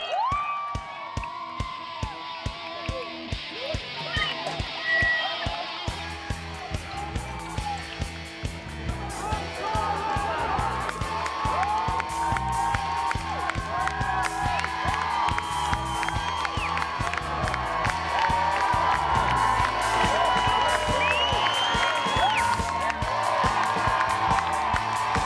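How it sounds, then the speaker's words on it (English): A large crowd of thousands cheers and whoops loudly and steadily as racers set off from town at the start of a river race, with voices, shouts and a dense, continuous roar throughout. "Thousands of people cheer them on as they attempt to make it out of town without any incidents"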